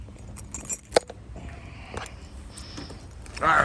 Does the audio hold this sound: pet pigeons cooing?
no